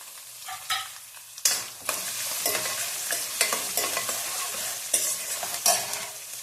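Dried red chillies and garlic crackle in hot tempering oil while a spoon scrapes and stirs briskly, giving close, uneven bursts of sizzling with no speech.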